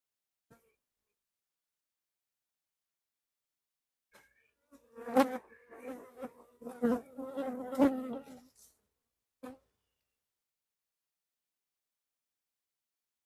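Honeybees buzz close by around an opened hive whose brood nest has just been flipped. Their droning comes in uneven surges over several seconds, rising and falling, with near-silence before and after.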